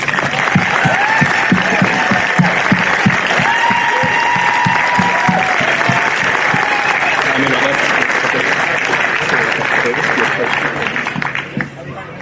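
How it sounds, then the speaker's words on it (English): A crowd applauds at a football grand final in a semi-professional league, with loud, continuous clapping and a few whistles and cheers mixed in, tapering slightly near the end. "So, big round of applause for Quinn, please."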